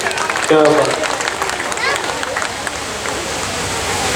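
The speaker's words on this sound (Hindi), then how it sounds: "एक बार हम सब ताली वाली बजाइए" Listeners at an All India Mushaira in Rauza Gaur clap together, a rushing, steady patter of many hands under a brief vocal sound and general crowd murmur.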